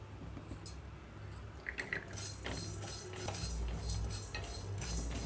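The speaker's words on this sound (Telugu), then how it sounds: "ఇందులోనే ఇప్పుడు ధనియాలు కూడా వేసేసుకుంటున్నాను అలాగే జీలకర్ర కూడా" Coriander seeds and cumin seeds toast over a low flame in a pan for bitter gourd onion masala powder, with a metal spoon scraping and clinking steadily against the pan throughout, fairly close and moderately loud.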